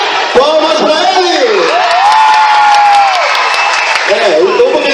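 A loud crowd at a 2019 PROERD school graduation applauds and cheers for a student. Whoops and rising shouted voices ride over continuous clapping throughout, close and energetic.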